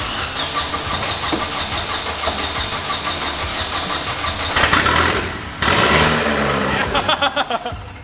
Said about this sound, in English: we were able to persuade it into life with a bit of quick start.